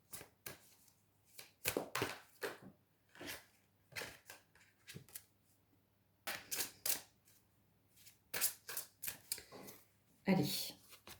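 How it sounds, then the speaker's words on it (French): A card is drawn from a fallen angels oracle deck, giving bursts of shuffling, sliding and flicking card sounds with short pauses in between. Close and crisp, with no speech over them. "on va aller prendre une carte des anges déchus pour voir un petit peu ce qu'il en est"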